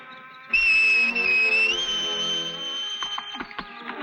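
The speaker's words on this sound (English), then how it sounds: "You sure you can whistle like that, kid?" A person gives a long, shrill whistle to call a horse in a Western scene, holding the tone for about a second before it bends upward and fades into faint clicks and movement.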